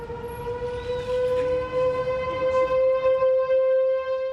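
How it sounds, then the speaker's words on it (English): A tornado warning siren wails with a steady, sustained tone, loud and droning, with a slight rise in level as it sounds outdoors in a residential area. "When the siren goes off here, they're going to hear it."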